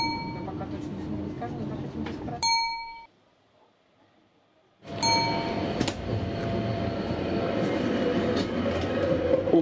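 Inside a Trans-Siberian passenger train, a steady rumbling interior drone carries a metallic clang and ding. The noise briefly drops to near silence, then returns with another clang as the rolling rumble resumes, while a voice speaks over it.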